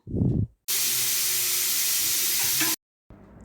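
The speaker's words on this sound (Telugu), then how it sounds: "3 విజిల్స్ అయిపోయాయి కదా, ఇప్పుడు మూత తీసి చూద్దాం." A pressure cooker cooking chickpeas vents a loud, steady hiss of steam for about two seconds, cut off abruptly, with brief softer noises before and after.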